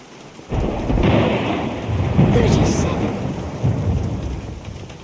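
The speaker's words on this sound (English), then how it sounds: "Are you counting the thunder?" Thunder rumbles through steady rain in the 2003 adventure game The Black Mirror, a loud continuous downpour swelling from about half a second in, with rolling booms layered over the hiss of rain on surfaces.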